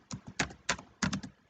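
Close, crisp keystrokes on a computer keyboard come in short clusters as code is typed, with brief pauses between the bursts.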